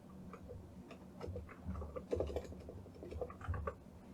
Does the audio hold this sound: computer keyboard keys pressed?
yes